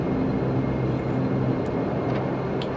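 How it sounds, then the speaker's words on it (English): Majestic Q400 turboprop engines in a flight simulator spool up toward full power, a steady loud broadband drone with a low tonal hum, continuous and close throughout. "Advance the throttles, make sure they're stable, advance them to full, and we are rolling downhill"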